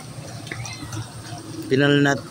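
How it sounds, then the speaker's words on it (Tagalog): Fresh water poured to replace dirty drinking water for animals, a brief splashing fill near the end of the clip after a stretch of quiet background with faint voices. "Pinalitan na po natin yung tubig na marumi"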